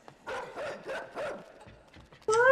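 A dog in the video game Inside barks four times in a quick, even rhythm, fairly close, followed by softer scuffs and then a sudden loud tonal sound at the end.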